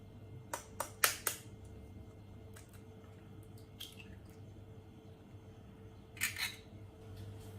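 Eggs cracked into a bowl of dry cupcake ingredients: a quick cluster of sharp cracks and taps early on, then a wet squishy plop later, close and quiet in a still room.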